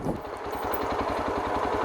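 A Yezdi Adventure motorcycle engine runs steadily while the bike is eased down an off-road slope, a close, continuous low throbbing rumble with regular pulses throughout.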